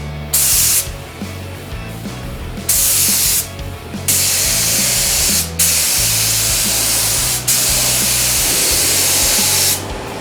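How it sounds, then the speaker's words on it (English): Spray gun applying a primer coat to a Volvo truck: loud, steady hissing bursts that cut off and restart several times, with an engine-like hum running low underneath and no talking. "the first coat of primer came out looking terrible and did not go on well at all"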